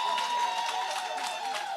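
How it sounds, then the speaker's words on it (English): Steady applause from an audience at a political launch event, a continuous dense wash of clapping and crowd noise filling the whole stretch without a break. "Give her another round of applause."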